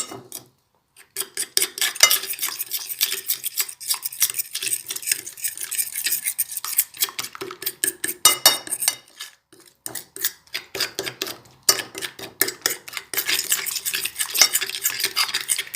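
Spoon stirring an egg into a spiced mixture of chili flakes and black pepper in a bowl, a fast run of close, bright scraping clicks that pauses briefly a few times and then resumes, with no talking.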